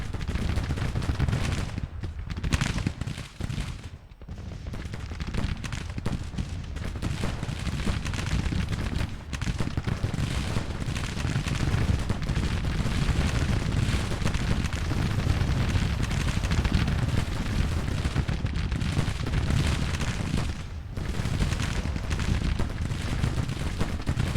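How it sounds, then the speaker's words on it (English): Artillery fire in a Civil War strategy video game thunders in a dense, continuous barrage of overlapping booms and crackling volleys, loud and sustained throughout. "It's all the artillery fire."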